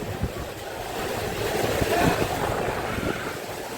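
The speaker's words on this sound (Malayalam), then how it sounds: "നല്ല കാറ്റാണ്" Strong wind blows outdoors by the water. It makes a steady, broadband roar with low buffeting gusts against the microphone for the whole stretch, and no voices can be heard.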